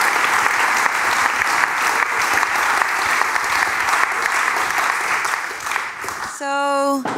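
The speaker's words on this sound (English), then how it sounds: "I want to give a big round of applause" Audience applause at a city-making conference, steady loud clapping from a large crowd that runs for several seconds before cutting off abruptly, followed by a short electronic tone.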